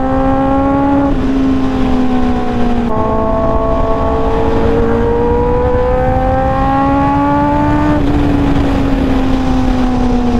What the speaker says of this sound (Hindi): भाई पूरा विली खींचते हुए जा रहा है